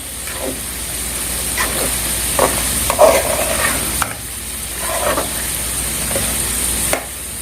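Biryani masala stirred into chicken in a frying pan, a steady sizzle with scraping spoon strokes recurring every second or so, close and fairly loud, no talking.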